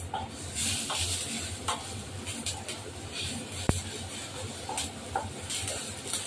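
Spices for a tengra fish curry, cumin and chili powder, are stirred in a frying pan, giving soft scraping strokes over a low sizzle with one sharp clink partway through, close and without talk.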